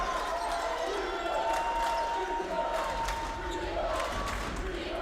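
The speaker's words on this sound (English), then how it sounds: "the crowd erupts as he gets the putback" A crowd cheers at an NCAA men's college basketball game between Trinity University and Texas Lutheran University, a sustained roar with sneaker squeaks and ball bounces under it.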